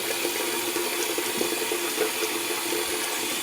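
Water from a tap runs steadily into a filling sink, a continuous close rushing stream with slight splashing variation throughout.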